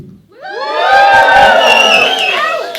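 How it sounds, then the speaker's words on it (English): Comedy club audience at The Twisted Vine bursting into loud cheering and whooping on cue, a big swell of many voices that rises quickly, holds and fades over a few seconds. "So show me that you can cheer."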